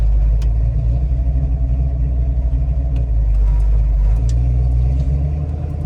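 A 1970 Dodge Challenger R/T Convertible engine runs close by with a deep, steady, throbbing rumble and faint clicks on top, continuous and even throughout.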